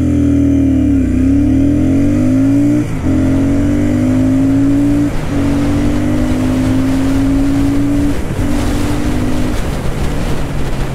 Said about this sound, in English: understand the acceleration of this cruiser bike, of this new flagship Royal Enfield motorcycle